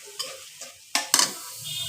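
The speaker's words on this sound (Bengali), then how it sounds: "আমি এখন নেড়ে চেড়ে নিচ্ছি।" Garlic and dried chili frying in oil in a pan, stirred with a few sharp scraping strokes and bursts of sizzle over a low hiss, close and brief with no talk.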